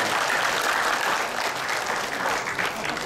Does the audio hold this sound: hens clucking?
no